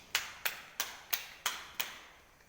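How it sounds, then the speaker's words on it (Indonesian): Six crisp hand claps in a classroom, evenly paced about a third of a second apart, each sharp and moderately near, the last trailing off into quiet room tone without any voices. "Sebelumnya kita berikan aplaus dulu untuk Pak Di."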